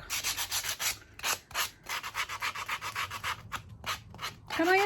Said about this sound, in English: So all I'm going to do is I'm going to grab my sanding block.